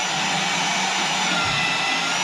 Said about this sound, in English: That's a bandsaw, portaband.